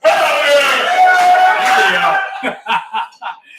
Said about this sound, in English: I don't know if I can get a noise or a cheer back there, but I got a bunch of Navy personnel back there